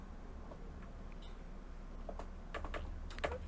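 Quiet keystrokes on a computer keyboard during coding work, sparse at first and then a short burst of quicker taps, with a faint room hiss underneath and no voice.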